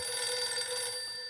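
Steady electronic telephone ringing from a Battlefield 6 game scene fills the moment, a bright buzzing trill at moderate level with faint low rumble beneath, fading slightly at the end.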